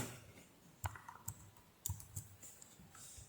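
Keys on a computer keyboard tapped while working in the Arduino IDE, including the enter key, give a few faint, scattered plastic clicks spread unevenly over a quiet background.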